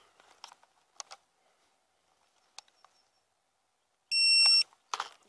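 A Hubsan Zino drone controller powers on with one clear, loud electronic beep lasting about half a second, preceded by scattered soft clicks and handling taps in a quiet space.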